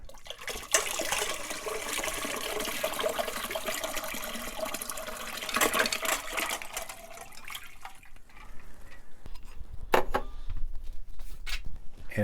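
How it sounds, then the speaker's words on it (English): Ice water poured into a salty pastrami brine, a steady splashing rush of liquid for several seconds that fades into scattered trickles, drips and light clinks near the end, close and without talk. "you're going to want to add 2 quarts of ice water"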